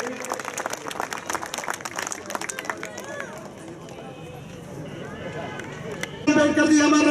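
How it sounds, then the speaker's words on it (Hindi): Crowd clapping at an outdoor statue unveiling ceremony in a village, brisk and dense at first, then thinning into murmuring voices before loud music or amplified sound cuts in near the end. "जोरदार तालियों से आप स्वागत करेंगे।"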